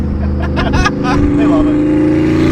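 Porsche Panamera Turbo with side exhaust drops a gear: a loud, steady engine drone with a few short blips as revs shift, voices faintly over it.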